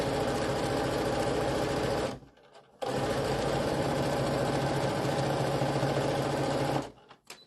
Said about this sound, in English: now we're sewing those rows together